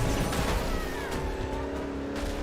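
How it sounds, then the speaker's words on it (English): A car spinning out in the video game Driver: San Francisco: a steady engine drone with a brief, faint squeal partway through, moderately loud and without talk. "It sucks to jump into a car and then immediately get spun out like that."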